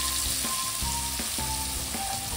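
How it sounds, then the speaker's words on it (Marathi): Steady, loud sizzling and crackling of spices frying in hot oil, continuous throughout with no voices. "ही जी तुम्हाला फोडणी दिसत आहे ती आहे आमच्या फेवरेट"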